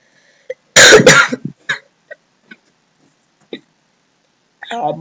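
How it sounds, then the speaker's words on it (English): A single loud, harsh cough bursts out close to the microphone, followed by a few faint clicks and breaths, then a short voiced sound at the end. "I'm sorry for that cough."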